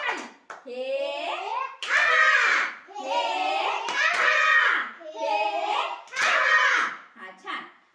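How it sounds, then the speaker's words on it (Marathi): Children in a village school classroom in Jakhale give a round of loud clapping, partly masked by children's voices chanting and talking over it. "जोरदार टाळी"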